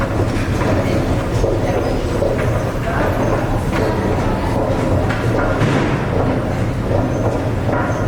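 A Paris metro train runs with a constant loud rumble and rattling clickety-clack from inside the carriage, with faint voices underneath.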